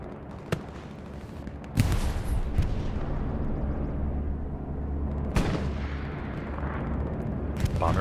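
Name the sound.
bombing run explosions in Hell Let Loose video game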